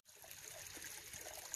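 A small, shallow mountain stream flowing into a little pool trickles softly and steadily, a faint continuous babble of water with no voices.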